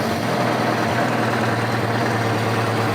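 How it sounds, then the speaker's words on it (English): A carburetted motorcycle engine idles smoothly and steadily right after a carburetor sync, a close, even low rumble holding a constant rhythm throughout with no talking. "You can hear how happy the bike is. It comes right back to a smooth idle."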